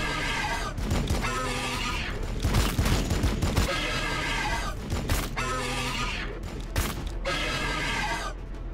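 Gunfire from units in Warhammer 40,000: Battlesector, loud overlapping volleys and bursts continuing throughout, mixed with battle effects and cracks.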